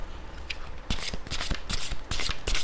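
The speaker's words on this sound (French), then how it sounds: "Donc je prends un peu le temps de bien les mélanger" A deck of 44 oracle cards being shuffled by hand, with close, loud bursts of riffling and sliding card noise repeating in quick succession.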